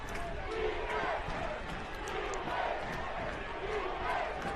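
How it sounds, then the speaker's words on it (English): A college football crowd in the stands shouts "defense" in rising, repeated chants, a dense, fairly distant roar of many voices swelling and falling in waves across the stadium. "Hear the Benedict crowd shouting defense."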